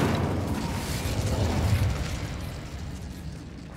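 A fire spell cast from a wand in Hogwarts Legacy bursts into a low whooshing roar of flame that swells, holds, then gradually fades over a few seconds.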